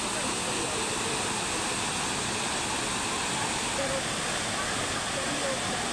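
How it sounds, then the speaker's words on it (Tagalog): Strong rushing water at Cambugahay Falls in Siquijor during a storm roars steadily and broadband throughout, like a fast river current, with no pauses. "malakas yung agos ng tubig"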